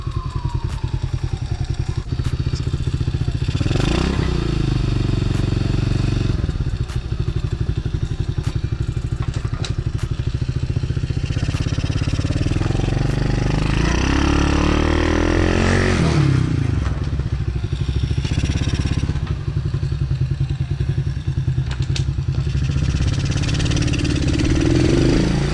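TaoTao DB14 dirt bike engine idling in neutral, a steady, close, rattling putter that runs unbroken throughout with slight rises and dips in revs.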